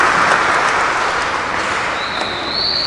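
Steady applause from an audience at an Indonesian badminton awards ceremony, honoring champion Mutiara Ayu Puspita Sari; dense continuous clapping holds for about three seconds, with a faint high whistle-like tone rising near the end.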